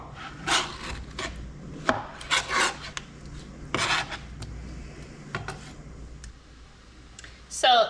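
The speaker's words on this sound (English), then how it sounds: "You can do half pears and just use something to scrape out the center to hollow it out." Soft halved pears being cut and scraped hollow with a utensil during home canning in Alaska: a series of short, close scraping and chopping strokes in irregular bursts over quiet room noise.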